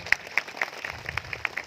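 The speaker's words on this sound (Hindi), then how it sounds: "तो एक बार सभी उनके लिए तालियां बजाएं।" Sparse audience applause at a Hindi-language event, a handful of separate sharp claps spaced irregularly, fairly faint and thin rather than a full ovation.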